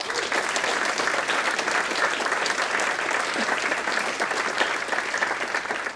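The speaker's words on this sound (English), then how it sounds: "Let's give them a hand." Dense, steady applause from an audience at a city State of the City address, sustained at full strength for about six seconds with no voices above it.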